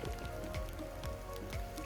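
Rain falls on an old street in a small Hakka town in Pingtung. It makes a soft, even patter with scattered drops, faint and without voices.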